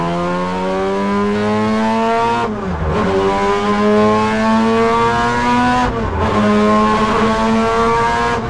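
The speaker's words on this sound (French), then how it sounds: "on va voir ce que ça donne ce moteur rotatif" A Mazda rotary-engine prototype race car revs loudly on track, its high buzzing engine note climbing steadily through the gears with two brief dips at shifts around three and six seconds, close and continuous with no talk.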